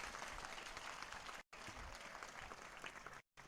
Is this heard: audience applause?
yes